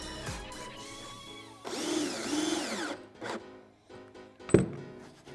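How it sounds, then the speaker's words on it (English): A power driver sinks 3-inch trim head screws into wooden boards of a vertical garden tier, with a rising whirring drive burst in the middle, scattered knocks and a sharp thunk near the end. "I used a brad nailer to help keep it steady while I sunk 3-inch trim head screws."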